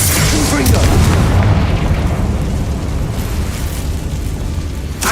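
Confringo fire spell blasting in a wizarding video game, a loud booming explosion at the start that rumbles and decays into sustained crackling noise, with a short burst near the end.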